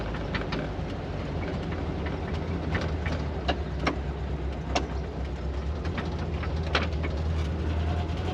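A 1973 VW Thing's engine runs in a steady low rumble, close and continuous, with light clicks and rattles scattered through it.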